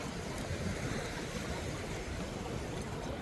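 Surf rolling onto a Mallorca beach near Palma, an unbroken hiss and rumble of water with some wind buffeting, steady and close, no talking.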